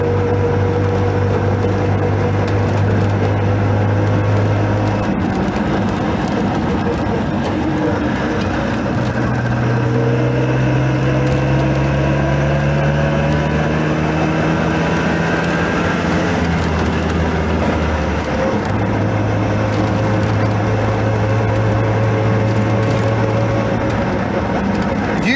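A Messerschmitt KR200 Cabriolet microcar drives along, its small engine droning loudly with buzzing pitch that climbs, drops and climbs again through several gear changes, under steady wind and road noise.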